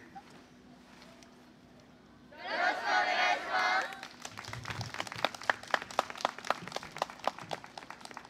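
Audience clapping along in a steady, regular beat at a YOSAKOI Soran dance parade performance at a spring festival, following a short burst of louder crowd applause and cheering, with distant voices underneath.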